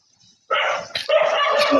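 A dog gives two or three sharp, close barks in quick succession after a brief quiet start, loud and clear with little background.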